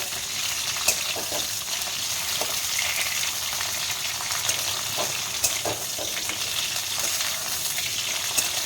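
Winter vegetables fry in a pan with a steady, close sizzle that runs throughout, broken by occasional stirring clicks and scrapes.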